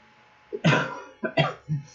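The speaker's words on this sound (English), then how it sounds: "still coughing a little bit" A person coughs in three rough bursts, two quick ones close together and a softer third, close and fairly loud with no talking.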